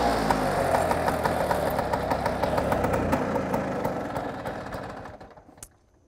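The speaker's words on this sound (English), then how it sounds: "The bike will not idle unless the choke is on." A scooter engine idling in neutral with the choke on, a close, steady knocking putter that runs evenly and then fades and cuts out near the end.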